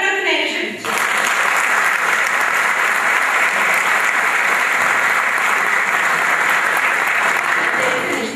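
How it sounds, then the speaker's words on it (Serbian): An audience at a political party convention breaks into sustained, dense applause that swells quickly and holds at a steady roar, welcoming guests. "Molim vas da velikim aplauzom posebno pozdravimo naše drage goste."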